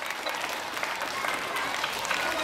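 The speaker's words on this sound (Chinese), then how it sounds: "我们用热烈掌声来欢迎我们的会长吴春发吴会长" An audience at a school parent-education day bursts into dense, continuous applause to welcome the association president, many hands clapping at once at a steady, moderate level throughout.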